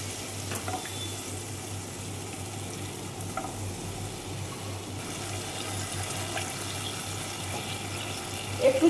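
Water poured into a pan of tamarind chutney for doi bora, sizzling and bubbling steadily at low level with faint stirring, a brief louder splash near the end.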